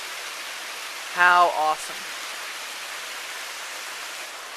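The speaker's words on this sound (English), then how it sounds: "Beautiful deep pool flowing down a wonderful smooth waterfall that goes way up." A smooth, tall waterfall pours into a deep pool, making a steady, even rush of water throughout, with a person briefly exclaiming over it near the start.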